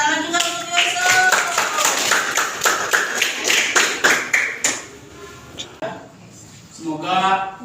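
A school audience claps for a student named Yusuf at a positive-culture classroom event, with a few bursts of irregular, fairly close hand claps and taps that thin out and fade, followed by a short spoken voice.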